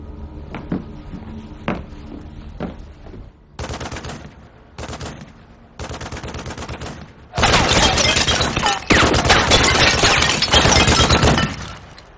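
Gunfire crackles during a sci-fi action scene, first a few scattered sharp shots, then a sustained, loud volley of rapid, dense fire that ends abruptly.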